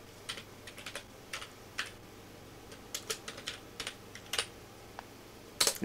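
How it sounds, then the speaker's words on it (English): Light typing on a computer keyboard, a scattered run of soft quick keystrokes in small clusters over a low steady hum, ending in a brief louder flurry of keys. "I'm going to type in Adblock Plus."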